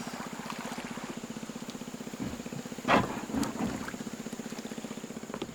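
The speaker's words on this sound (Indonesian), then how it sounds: "Oke, jadi mulai hujan." Steady rain patters under a low, droning hum on a river in Kalimantan, with a brief rumble of thunder swelling and fading partway through.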